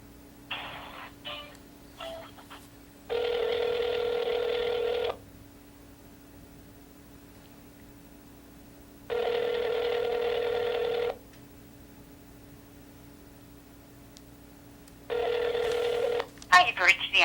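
A telephone call being transferred rings through the line: quick dialing beeps, then three long, evenly spaced ringback tones with gaps between them, over a steady hum.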